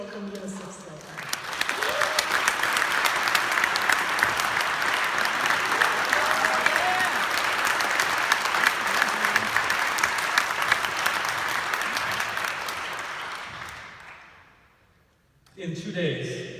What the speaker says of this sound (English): let's give him a very warm applause to give him plenty of time to get out here